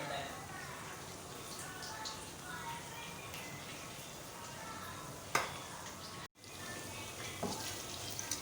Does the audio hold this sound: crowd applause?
no